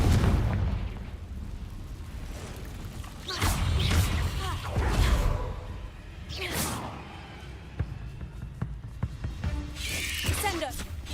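Confringo fire spell explosions in the Hogwarts Legacy video game during cave combat, several heavy booms with whooshing casts spaced a couple of seconds apart, loud over a rumbling game soundscape.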